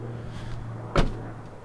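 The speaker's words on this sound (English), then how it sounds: "close the door," Door of a 2003 Honda Stepwagon JDM minivan shutting with a single sharp thud, close to the microphone, over a low steady background hum.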